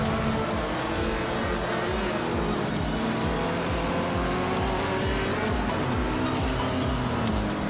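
A 1970 Simca Rally 3 race car in a racing game holds a loud, steady engine drone with rising and falling gear revs and some tire squeal, close and continuous without a break.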